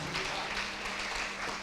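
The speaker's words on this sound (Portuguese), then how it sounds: "Vamos dar um aplauso ao Senhor" Congregation clapping during a church worship service, a steady dense patter of applause filling the room without a break.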